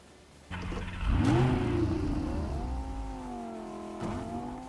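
Car engine in a battle royale video game revs up sharply and holds a rising, wavering drone, loud and close, with a second surge near the end; no talking.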